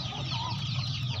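Hens and chicks on a farm cluck together in a steady, close, continuous chorus, with a constant low hum underneath and no talking.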